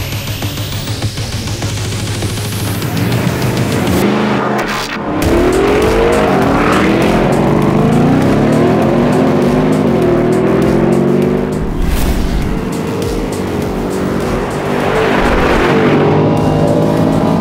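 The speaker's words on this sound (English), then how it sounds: "The Mercedes front end gets light on the launch, but the longer wheelbase Raptor just leaves the AMG for dead" A Ford Raptor R and a Mercedes G63 AMG launch in a drag race, loud engines idling then roaring up through rising revs as the vehicles accelerate hard and sweep past close by.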